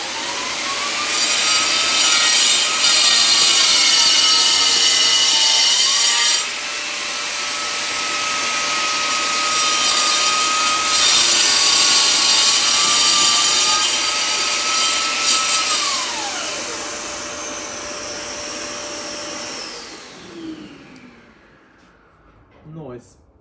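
Festool cordless saw cutting wood with dust extraction running, a loud sustained whine and rasping cut for about fifteen seconds that winds down and fades.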